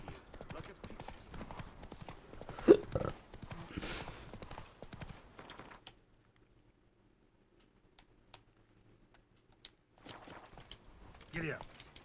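Horse hooves clip-clopping in the video game Witcher 3: Blood and Wine, a steady rhythmic gallop over the first half with a brief voice, then near silence before hoofbeats return faintly.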